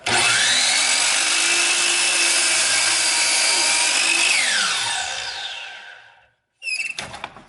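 A power saw cuts through wooden picture frame molding, a loud close whining buzz that holds steady, then pitches down and fades as the blade spins out, followed by a short burst of clattering handling noise.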